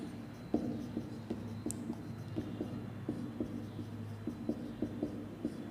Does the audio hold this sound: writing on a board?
yes